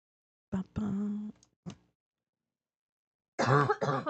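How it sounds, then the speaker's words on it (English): A few short coughing bursts, then silence, followed by a quick pair of harsher throat-clearing coughs; close and fairly loud, nothing else. "I'm coughing"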